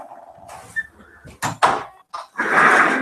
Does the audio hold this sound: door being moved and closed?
yes